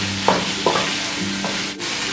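A spoon scrapes and turns vegetables through a sizzling paneer jalfrezi masala in a pan, three or four distinct stirring strokes over a constant frying hiss, without any talking.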